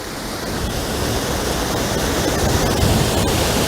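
East Dart waterfall on Dartmoor roaring steadily in the open moorland, a loud, continuous broadband rush of falling water close by with no voices.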